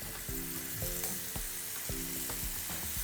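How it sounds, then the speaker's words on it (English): Vegan Asian food sizzles steadily in a hot frying pan, a constant hiss with a few clinks and scrapes of stirring, close and clear with no talk. "let me just get this in the pan. There we go. Can you hear that sizzle?"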